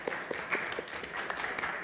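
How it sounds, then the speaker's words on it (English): Thin, scattered clapping from a small audience welcoming Professor Dr. Sundar Mudaliar, distinct individual claps at a moderate distance, brief and fairly quiet. "Let us welcome him with a round of applause."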